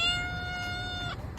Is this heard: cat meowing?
yes